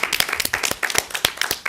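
Close, crisp applause from a small audience at an early childhood education talk, a quick run of sharp individual claps in an uneven rhythm lasting under two seconds.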